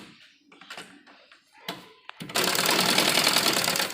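After a few soft handling taps, a sewing machine starts up and runs a steady, fast burst of stitching close by, sewing a pressed seam on an embroidered blouse.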